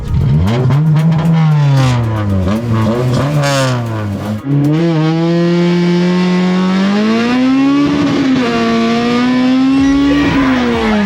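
A modified Honda Civic accelerates hard, its engine note climbing through the gears with clear rising harmonics, a short break at each shift, loud and close throughout.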